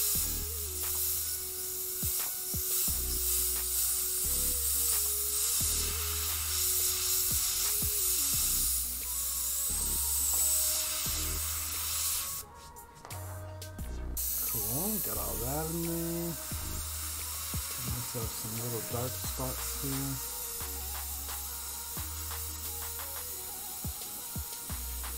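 An airbrush sprays paint onto an RC car body in a steady, soft hiss that runs for long stretches, broken by a brief pause and small clicks and knocks, with a little talk in the background.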